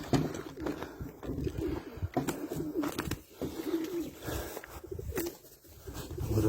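A young blue pigeon coos softly at close range among rustling and fluttering, with faint other birds in a warm outdoor loft and no talking.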